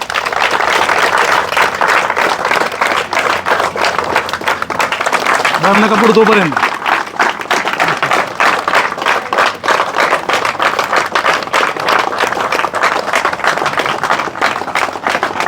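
Loud, sustained applause from a crowd at a career academy, dense and steady throughout, with voices talking over the clapping.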